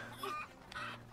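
A chicken in the video game Zelda Echoes of Wisdom gives two short, faint clucking calls in quick succession over a quiet background.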